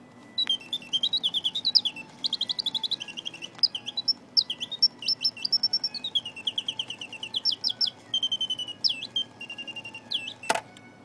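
A vintage Karl Griesbaum M-19 mechanical singing bird box warbles rapid, repeated whistling trills in quick bursts, with a faint whirring underneath and a sharp click near the end.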